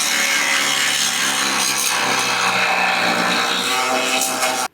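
Angle grinder cutting rivets off the steel frame of a 1941 Mercury car: a loud, continuous abrasive grinding roar that holds steady for several seconds and then cuts off abruptly.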